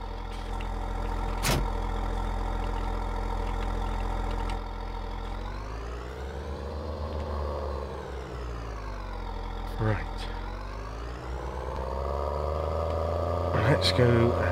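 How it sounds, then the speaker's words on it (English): A tractor engine idles in a farming video game with a steady, droning hum whose pitch rises and falls gently. A few sharp clicks break in, and a voice talks over parts of it. "I do very much love this tractor there."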